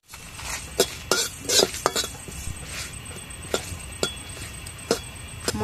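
Whole cumin seeds are stirred in a pan while a utensil clinks and scrapes against the metal in irregular sharp knocks, about a dozen distinct taps over a faint steady background.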